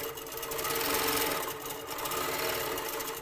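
A Moxie quilting machine stitches quickly and evenly, its needle making a fast, even mechanical chatter that stays steady and moderately loud close by with no talking.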